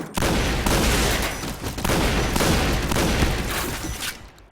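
Rapid bursts of gunfire from the online shooter Point Blank crack loudly and densely, overlapping in sustained volleys with brief gaps before fading out at the end.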